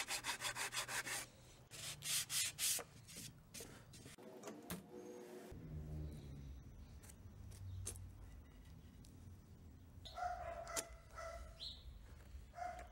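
Boards for a wooden dog house are worked with a file and sandpaper, giving rhythmic rasping strokes followed by softer continuous rubbing, close and fairly loud.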